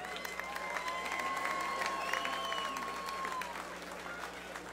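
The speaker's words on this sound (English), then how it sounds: "how about a round of applause for these two fighters?" A crowd at an evening fight card applauds two fighters after their bout, a steady wash of clapping with scattered cheers and a sustained whistle-like tone running through the middle.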